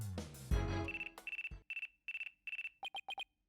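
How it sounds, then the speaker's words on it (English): A phone rings in the video game Phoenix Wright: Dual Destinies: after a short musical sting, a bright electronic ringtone chirps in a quick series of even pulses, ending in faster double-tone beeps, clear and alone. "Oh, pardon me, looks like I have a phone call."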